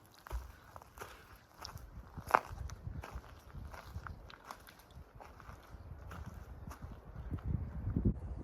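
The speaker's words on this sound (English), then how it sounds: "Now I walk along Crab Pond for a little bit." A backpacker's footsteps crunch along the trail by Crab Pond in the Adirondacks' Pharaoh Lake Wilderness. The steps are close, steady and rhythmic, with soft scuffs and one sharper knock, and no voices.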